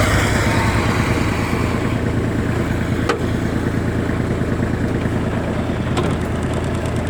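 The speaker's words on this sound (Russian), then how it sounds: "Трактор работает ровно." A Kubota GL29 mini tractor engine, fitted with a rotary tiller, idling evenly on a frosty day, a loud close steady diesel chug with an unbroken rhythm and a couple of faint clicks.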